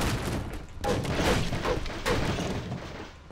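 Dense, continuous rumble of video game explosions and gunfire-like bursts with several sharp blasts, loud and sustained throughout.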